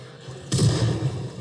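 A single loud shotgun blast in Project Zomboid hits suddenly after a quiet moment, followed by a low, rumbling tail.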